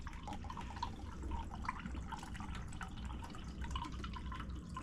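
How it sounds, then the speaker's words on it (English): Water drains slowly from a watercooler tank through a bottom plug, a faint, steady trickle with light dripping that stays low and continuous throughout. "And that will slowly drain what's in there."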